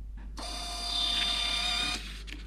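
A Gprinter 5890XII wireless thermal printer prints a test page, giving one steady, close whirring feed of about a second and a half with a tonal whine, then stopping.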